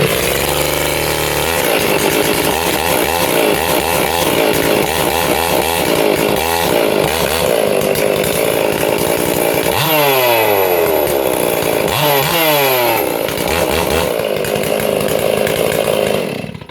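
Stihl 440 chainsaw under repair, revving loudly and close in repeated throttle pulses with rising and falling engine pitch, the motor held near full roar throughout.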